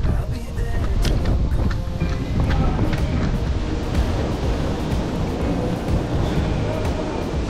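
Very strong wind roaring across the microphone outdoors, a heavy continuous rumble with gusty buffeting that stays loud throughout and masks other sound.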